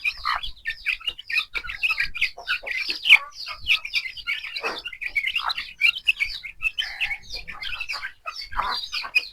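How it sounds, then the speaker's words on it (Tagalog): Young chicks of the Lemon Sweater fighting-cock breed peeping and chirping continuously at close range, a dense overlapping chorus of high tweets with occasional clucks. "meron akong breed na ano, pangsabong lemon sweater"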